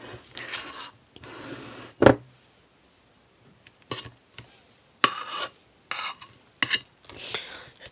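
Homemade chocolate ganache being stirred in a bowl with a utensil, giving intermittent scraping and clinking strokes in short bursts with pauses between, close and fairly quiet, with no talking.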